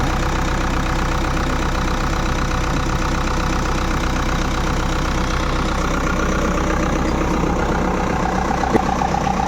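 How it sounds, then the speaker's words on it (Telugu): A steady, continuous four-cylinder engine idle after a complete overhaul, with a low rumbling throb and even, unchanging loudness throughout, no voices. "ఇంజిన్ సౌండ్ ఎలా వస్తుందో చూస్తున్నారు."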